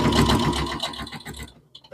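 A sewing machine stitches quilt binding at a quarter-inch seam, running in a fast, steady close whir with rapid needle ticks before stopping abruptly, followed by a couple of faint clicks.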